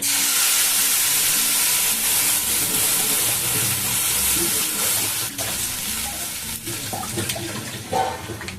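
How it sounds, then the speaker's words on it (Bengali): Half a kilo of milk is poured into a hot pan of fried ingredients for payesh, giving a loud, close hiss and bubbling sizzle that slowly settles toward the end. "এখন দিয়ে দেব এখানে হাফ কিলো দুধ"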